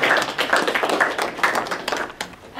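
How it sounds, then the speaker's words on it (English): Audience clapping at a high school talk, a short burst of dense, close hand claps from a small crowd, fairly loud and continuous throughout. "We should clap, Sarah"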